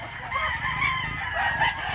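A rooster crows nearby at a poultry expo in Barili, Cebu, a drawn-out cock-a-doodle-doo over clucking fowl and faint background chatter.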